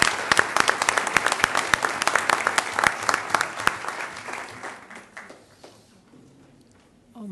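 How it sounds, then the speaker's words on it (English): An audience applauds schools at a May 2017 good-news event, a dense burst of clapping with sharp individual claps on top that thins out and fades to near silence by the end. "Please join me in one final round of applause for all of our overachieving schools."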